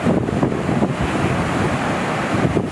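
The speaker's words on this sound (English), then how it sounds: "The waves spraying spectators who lined the shore." Ocean waves surge and break along the shore at Currumbin on the Gold Coast near Elephant Rock, a steady loud wash of surf with continuous roar and wind noise, no voices.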